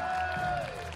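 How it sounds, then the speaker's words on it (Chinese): A crowd applauds at a kids' under-15 dance battle, giving a short, dense burst of clapping that stays fairly loud and tapers only slightly by the end. "多一点有爱的掌声好吗"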